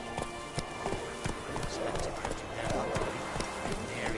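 Roach, the horse in The Witcher 3, gallops along with quick rhythmic hoofbeats, fairly close and steady, while a voice talks over the running.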